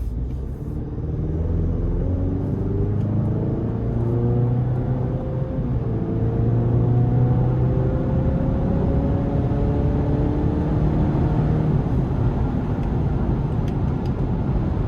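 The 2.7-liter engine of a 2026 GMC Canyon AT4 pickup accelerates, heard from inside the cab as a steady, rumbling drone that climbs in pitch through several gears with no talking.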